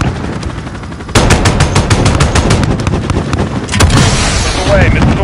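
Aircraft guns firing in Call of Duty Modern Warfare: loud, rapid automatic bursts that rattle continuously for several seconds, with a short gap and then renewed fire, and radio chatter underneath.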